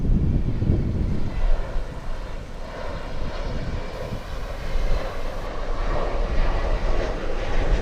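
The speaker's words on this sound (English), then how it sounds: "American 384 flying in from Belize City." American Airlines flight 384 from Belize City arriving at Miami International Airport, a loud jet engine roar heard from a distance, sustained and broad as the airliner passes on approach.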